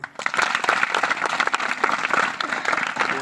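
Sustained applause from an audience honoring a student at a school event: dense, steady clapping from many hands, loud and close, running throughout without a break.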